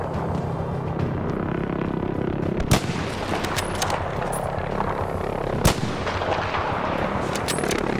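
Gunfire from a Battlefield V match on a wide open map: steady distant battle rumble with two sharp, loud shot cracks standing out, no talk.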